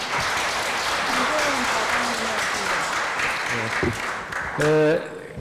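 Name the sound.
audience applause after a lecture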